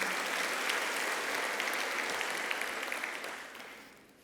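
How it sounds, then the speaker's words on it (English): Audience applause at a New York Building Congress luncheon, a steady dense clapping from a large room that holds for several seconds and then gradually fades out, with no voices. "Let's give another round of applause to both Jano and Rick."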